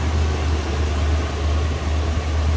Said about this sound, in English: Check out that engine bay with it running in a second.